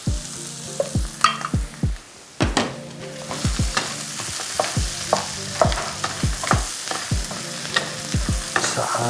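Spiced keema curry fries in a pan as butter is stirred through, with repeated scraping spoon strokes in an uneven rhythm over a steady, close sizzle.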